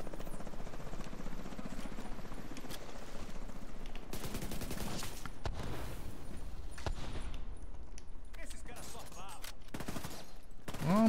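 Mk 16 5.56 rifle fire in the shooter game Tom Clancy's The Division 2, dense rapid bursts and booms over a loud, busy battle background that continues throughout.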